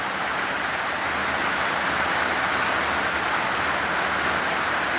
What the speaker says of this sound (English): it looks like it's a heavy rain as is where I am at right now